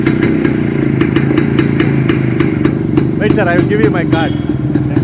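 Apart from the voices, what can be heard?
vintage 1979 Yezdi motorcycle engine running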